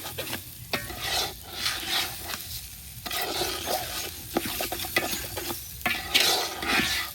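Rice grains being stirred and fried in a pan, a dry rustling scrape with soft sizzling underneath and repeated spoon clinks and knocks against the metal, steady and close, with no talking.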